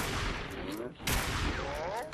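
Dense gunfire from the video game Fallout 4 fills the clip, a loud continuous fusillade of shots with a sharp burst near the middle, while a voice talks faintly underneath.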